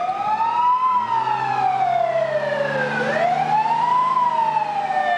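Baltimore fire engine siren wailing while responding to a fire call, a loud close electronic tone sweeping up and down in slow cycles over a low rumbling truck engine, with no voices.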